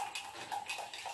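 Coffee is beaten by hand in a cup until frothy, a quick, steady run of soft scraping strokes repeating about four times a second, close and fairly faint.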